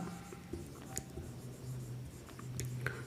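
Chalk or marker strokes on a board during a maths lesson on the mode of grouped data, faint scratchy writing with a few brief taps, fairly quiet and alone with no speech.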